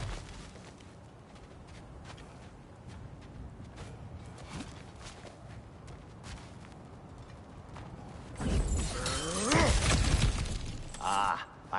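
Cracked ground shatters under a heavy smash in God of War Ragnarok, a loud crunching burst of breaking rock and tumbling debris late in the clip, following quieter footsteps with voices talking.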